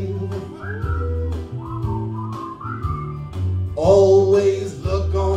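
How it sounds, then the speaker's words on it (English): A puppet-show performer whistles a melody, clear pitched notes phrased in a steady tune over a backing accompaniment, loud and close. "Just purse your lips and whistle, that's the thing."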